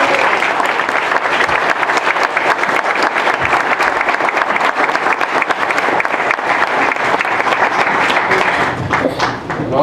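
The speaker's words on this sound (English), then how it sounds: "let's give them all a great round of applause." Sustained applause from the audience at a League of Women Voters candidate forum in Fillmore, dense steady clapping filling the room at even loudness for about ten seconds before easing slightly at the end.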